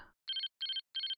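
Phone ringtone in the video game Again: Interactive Crime Novel: three evenly spaced electronic ring bursts, clear and alone after a brief low rumble at the start.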